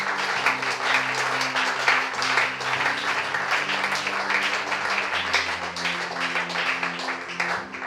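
A church congregation applauds Jesus, a long, steady wash of many hands clapping with sustained tones underneath, loud and continuous for the whole stretch with no voices standing out.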